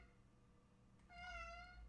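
A house cat meows once, a clear drawn-out call rising out of a quiet room and holding for most of a second before fading, with no talk over it.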